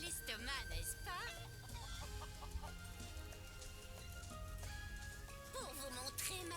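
Hens cluck repeatedly in Final Fantasy VII Rebirth, their short calls rising over background game music at a moderate distance.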